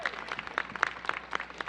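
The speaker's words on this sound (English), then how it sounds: "Let's give Christy a big round of applause." An audience at a store and café celebration gives a short round of applause, individual claps standing out sharply and close amid a thinner crowd of hands.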